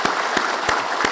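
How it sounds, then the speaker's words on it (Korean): A church congregation applauds during a Sunday service in a short burst of dense clapping, with a few louder regular beats standing out, and no voice over it. "큰 박수로 환영하겠습니다."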